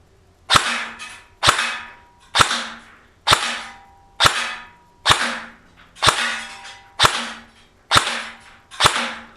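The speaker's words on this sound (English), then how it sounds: "So first we're going to shoot in semi-auto, 10 rounds." ASG CAA M4 Proline AEG airsoft rifle firing ten semi-auto shots, sharp close snaps at an even pace of roughly one per second, each followed by a short decaying mechanical rattle.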